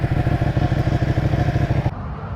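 A Ducati motorcycle engine idles and runs close by, with a steady rhythmic pulsing thump that continues for about two seconds before it softens and trails off.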